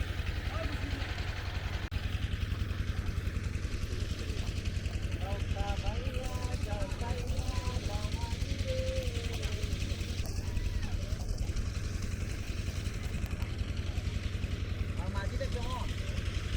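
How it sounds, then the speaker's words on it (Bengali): A village boat's motor hums steadily at mid distance on a river in Bangladesh's Habiganj countryside, a continuous low drone running throughout while someone talks over it. "সে নৌকা চালাচ্ছে আমার পিছনে।"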